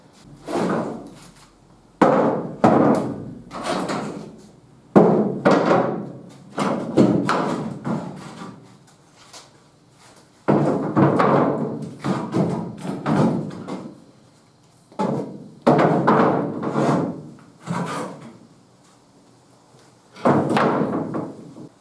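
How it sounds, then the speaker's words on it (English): The old tailgate comes off a 1978 Ford F150 pickup in a series of separate clunks and thuds spaced a few seconds apart, with quiet gaps between the knocks. "So first we're going to take off the old tailgate."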